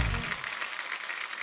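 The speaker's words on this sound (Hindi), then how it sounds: "एक बार जोरदार तालियां विकी पाजी के लिए हो जाए।" Studio audience at a comedy show applauding for Vicky, a broad steady wash of clapping that follows a brief low rumble at the start and holds evenly throughout.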